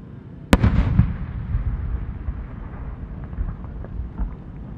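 A firework shell from Alps Enka Kogyo bursts at the Omagari fireworks competition in Japan, one sharp loud boom followed by a rumbling echo and faint distant crackles over outdoor wind noise.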